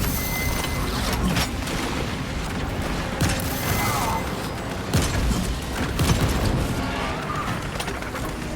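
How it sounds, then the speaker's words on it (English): Weapon reloading in Warhammer 40k: Space Marine 2, a busy stretch of metallic clicks, clanks and ratcheting mechanical noises over dense, steady combat ambience with occasional dull booms. "Reloading weapons"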